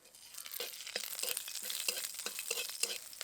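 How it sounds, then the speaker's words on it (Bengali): Panch phoron and slit green chillies frying in a little oil, a steady crackling sizzle with sharp spitting pops and stirring scrapes, close and moderately loud, no voices. "সামান্য ফোড়ন দিয়ে ভেজে নেব খুব সামান্য পরিমাণ তেল দিয়েছি এবার অল্প পরিমাণ পাঁচ ফোড়ন দেবো চেরা কাঁচা লঙ্কা দিয়ে দেব"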